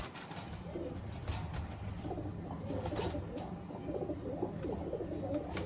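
Pakistani Teddy pigeon, a male, cooing in a steady run of low, throaty calls close by, with mild background hiss and no talking.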